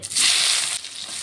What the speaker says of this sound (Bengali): পেঁয়াজটাকে দিয়ে একটু ভেজে নেব।